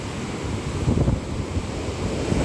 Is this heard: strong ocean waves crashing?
yes